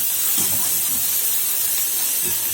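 Oil hissing and spitting in a hot pan while tempering spices, beside okra stir-fry and capsicum dishes, a steady close sizzle throughout with a few soft low thumps.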